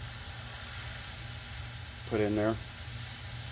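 Aerosol spray is blasted into the cable of a 21-inch Murray push mower, a loud continuous hiss throughout, with a short spoken remark in the middle.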